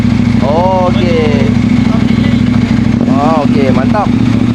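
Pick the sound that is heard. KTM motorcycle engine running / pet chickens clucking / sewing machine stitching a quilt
KTM motorcycle engine running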